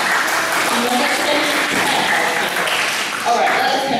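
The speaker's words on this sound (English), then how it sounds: "Give yourself a big round of applause." Audience applause from a crowd at an English character camp led by international volunteers at a Tainan high school, steady broadband clapping that fills the whole clip at close range, with a voice speaking over it.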